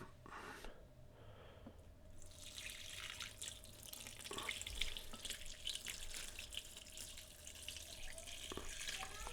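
Water poured into a deep indoor houseplant planter, a steady splashing trickle that starts quietly and then runs continuously for several seconds, faint and close, with no talk.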